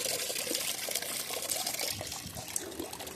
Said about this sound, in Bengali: এর সাথে খানিকটা জল মিশিয়ে দিচ্ছি।